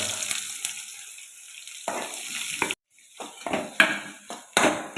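Sliced onion hits hot coconut oil in a pan where mustard seeds have just popped, giving a bright crackling sizzle that cuts off briefly and then returns in uneven bursts with faint clinks.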